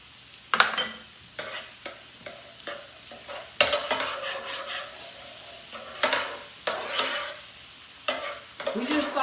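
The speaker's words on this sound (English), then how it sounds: "We just saute it enough where the onions get translucent." Minced garlic and white onions sautéing in a pan, a soft continuous sizzle broken by repeated sharp scraping stir strokes every second or two, close and moderately loud with no voices.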